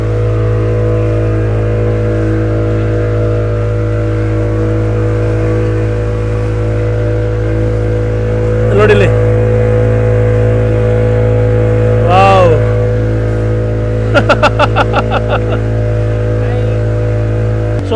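A motorboat engine runs steadily while the boat is driven, giving a loud, continuous drone near at hand throughout, with a few brief voices over it.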